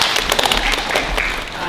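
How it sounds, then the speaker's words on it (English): An audience at a lecture on launching an international career claps in a short, steady burst of close, crisp applause. "You're going to give her a clap?"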